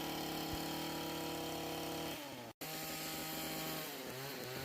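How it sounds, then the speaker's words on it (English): Engine-powered trimmer cutting overgrown, seeded grass around a homestead pool, a steady droning motor whine with shifting pitch and a brief cutout midway, close and loud. "yep, Jason's about to cut it down"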